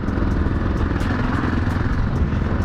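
A 1983 Yamaha XT550 single-cylinder motorcycle riding on the road and turning, its engine a steady, loud, rumbling drone with light clatter throughout and no talking.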